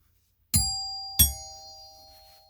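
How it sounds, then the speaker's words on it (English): A doorbell chimes twice, two clear ringing tones about half a second apart, each struck sharply and left to decay slowly, close and fairly loud in an otherwise quiet room. "We gotta always ring his doorbell"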